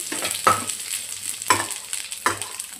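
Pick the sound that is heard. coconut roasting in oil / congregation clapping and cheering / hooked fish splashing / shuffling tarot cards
coconut roasting in oil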